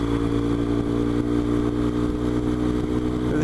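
A BMW R1200GS motorcycle engine drones steadily in top gear on a Yorkshire Dales road, a loud continuous low rumble with wind noise and no talking.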